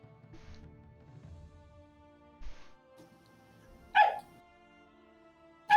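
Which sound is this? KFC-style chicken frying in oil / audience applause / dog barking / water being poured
dog barking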